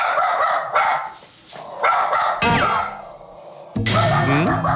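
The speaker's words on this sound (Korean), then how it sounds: "도다미가 짖어서 손님들이 바로 나간 거네요" A pet dog named Dodami barks in a small hair salon, with several sharp bursts and rough, excited yaps breaking over busy background noise and brief human voices.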